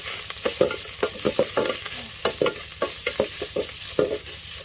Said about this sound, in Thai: ใส่น้ำมันนิดหน่อยตามด้วยพริกแกง พริกแกงเผ็ดของเรา ใส่เข้าไปใส่ พริกแกงให้หอมก่อน